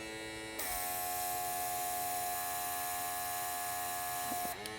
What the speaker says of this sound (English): I'm going to start at the back of the nail and then try to airbrush down.